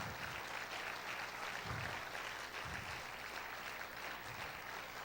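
Steady congregation applause in a church during a conference sermon, a continuous wash of clapping with recurring low thumps underneath, heard at a distance and fairly quiet.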